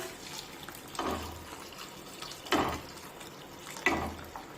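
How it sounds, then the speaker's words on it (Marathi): Hot water is poured into a pan of curry in three separate splashy gushes, close by and moderately loud, with quiet pauses between them. "गरजेनुसार गरम पाणी टाकूया।"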